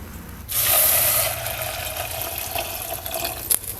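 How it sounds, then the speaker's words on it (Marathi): Water pours steadily into a brass pot for misal, starting abruptly and running on as a continuous splashing stream, with a brief clink near the end. "तर त्यामध्ये आपण घालूया पाणी"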